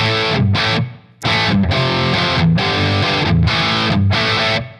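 Distorted electric guitar played through a Revv G20 amp on aggression level 2, with reverb from the amp: thick, saturated chugs in a repeated riff, close and loud, broken by a short pause.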